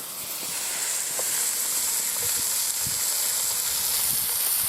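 Meat browning for chili in a Dutch oven at a bonfire night camp, a steady loud sizzle with faint pops and crackles throughout.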